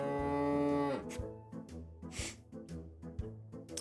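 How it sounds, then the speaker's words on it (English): A cow lets out a long, loud, close moo, followed by a few shorter lowing grunts and breathy calls. "A cow walked by."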